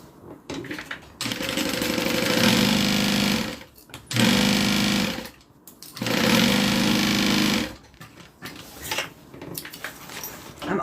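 A sewing machine stitching the bottom seam of a bag's interior, running in three long steady bursts of rapid mechanical whirring separated by short pauses, followed by a few brief stop-start runs.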